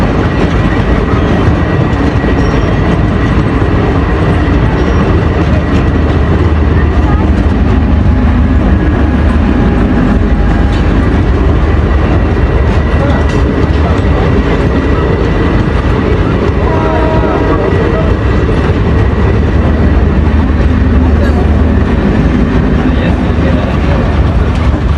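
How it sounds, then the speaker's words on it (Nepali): A train arriving near Janakpur, a loud, continuous rumble of rolling wheels and rattling carriages that stays close and dense throughout, with voices faintly under the noise. "फाइनली ट्रेन पनि आयो।"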